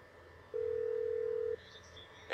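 A single one-second ring tone of an outgoing phone call in Grand Theft Auto 5, a steady electronic tone over faint game background.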